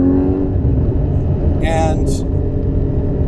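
A car drives at steady speed, its low engine and road rumble continuous throughout, with a person talking over it and a brief higher-pitched sound partway through.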